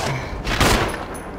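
A short burst of rapid gunfire comes from the Resident Evil HD video game, with sharp repeated shots crowding together over about a second.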